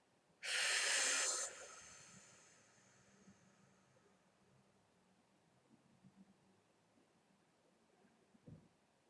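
One deep, forceful breath rushes out loudly and close during a gentle yoga session, followed by several seconds of quiet room tone with faint small sounds.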